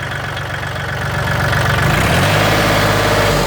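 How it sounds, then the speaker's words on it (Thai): A used Kubota L4018 DT tractor's diesel engine idling close by, with a steady low rumble that deepens and grows louder partway through as the revs settle into a heavier, even throb. "เครื่องยนต์นะครับ"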